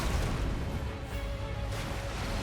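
A dense, sustained rumble of booming, crackling blasts rolls on without pause, loud and close, like a continuous area-of-effect explosion attack in Elden Ring.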